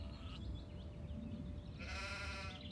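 A sheep bleats in the video game Gothic 2, a few wavering calls at moderate distance over a low ambient game background, with a brighter burst near the end.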